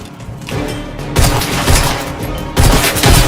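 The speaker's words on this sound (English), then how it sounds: "Grenade away!" A grenade explosion and gunfire in a shooter video game come as loud, dense bursts of booms and rapid shots in two heavy waves, with no talk.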